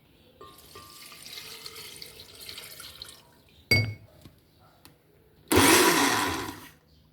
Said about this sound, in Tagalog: Tapos, mag-add tayo ng isang baso ng tubig.